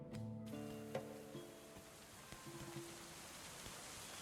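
Steady rain hisses in the medieval colony-building game Going Medieval, a constant soft patter alongside faint sustained game tones and occasional small ticks.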